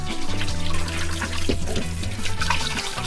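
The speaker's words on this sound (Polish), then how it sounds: "nie zapomnijcie o tym, żeby umyć ręce" Tap water runs steadily into a sink at a camper service station while hands are washed, a continuous close splashing with a low hum underneath and no talk.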